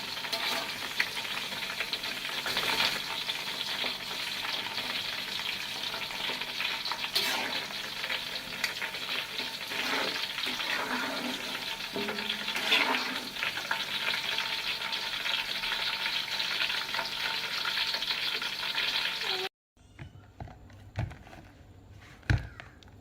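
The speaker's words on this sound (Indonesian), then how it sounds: "Jadi jagungnya akan saya angkat. Di sini kita angkat lalu akan kita tiriskan." Corn kernels fry in hot oil with a steady, close crackling sizzle for about twenty seconds, then the sound cuts off and a few light clinks follow as the corn is lifted out to drain.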